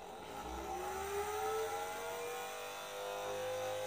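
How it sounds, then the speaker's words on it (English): A small motor spins a DIY blade-powered dynamo with spinning magnets between coils, giving a continuous close whir whose pitch glides gradually downward as it coasts, with no voices present. "the motor starts to rotate in between these coils and thus generating a EMF in the coil"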